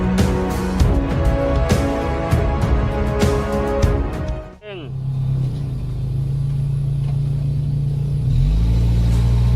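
A Suzuki Vitara engine revs hard and roars up close while one wheel spins, then drops off sharply into a lower, steady drone that climbs again near the end.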